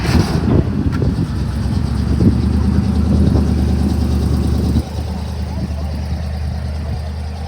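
A Volvo swapped with a Mazda RX-7 FC rotary engine idles at a car show, a steady low rumble close by that drops slightly in level partway through, with people talking nearby.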